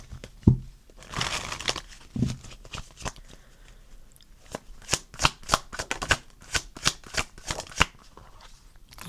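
Tarot cards are shuffled up close, with soft sliding and crinkly rustles giving way to a quick run of crisp, evenly spaced card flicks and slaps. No voice is heard.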